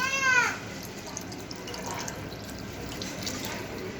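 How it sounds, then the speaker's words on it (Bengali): Water poured into a pot of khichuri being cooked outdoors in light rain, a brief splashy pour at first, then a soft steady wash of water and patter. "এবার আর একটু পানি দিয়ে দিচ্ছি।"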